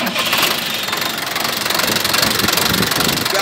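Sonalika International tractor engine idling nearby with a steady, loud diesel knock and vibration throughout, no talking.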